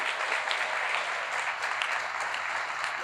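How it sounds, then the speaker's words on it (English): A graduation ceremony audience claps steadily and evenly, a sustained wash of applause with no pauses throughout. "Give yourselves a round of applause, please."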